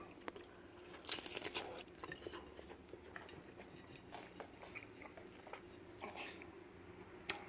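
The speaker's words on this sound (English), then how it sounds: "Let me take a bite." Biting into and chewing air-fried meat close up, with soft squishy chomps and a few crisper crunches spread irregularly over several seconds in a quiet room.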